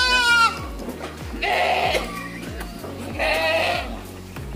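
Boer crossbreed goats bleat loudly and close by in several drawn-out cries separated by short pauses, over a steady rhythmic background music track.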